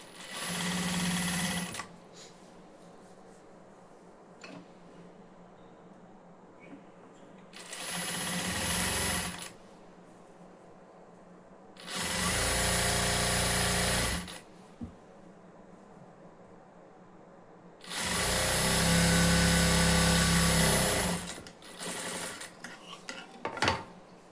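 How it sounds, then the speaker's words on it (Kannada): Electric sewing machine stitching lining onto a buff sleeve piece, four separate whirring runs of a few seconds each, with quiet pauses and small handling clicks between them. "ಲೈನಿಂಗ್ ಇಟ್ಕೊಂಡು 1/2 ಇಂಚ್ಗೆ ಏನು ಮಾರ್ಕ್ ಮಾಡಿರ್ತೀವೋ 1/2 ಇಂಚ್ಗೆ ಫಸ್ಟು ಸ್ಟಿಚ್ ಮಾಡ್ಕೋಬೇಕು."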